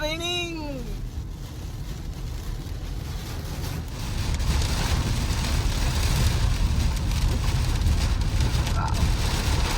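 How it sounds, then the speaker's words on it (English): Rain patters steadily on a car while it drives along a road between Kochi and Bangalore, a dense wash of noise that swells louder partway through, after a brief rising tone at the start. "it started raining."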